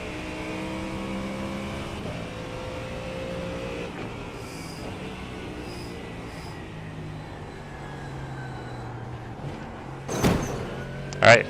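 Engine of a GT3 race car in iRacing at Mount Panorama, Bathurst, droning steadily with shifting revs as it downshifts, with a couple of sharp clunks near the end.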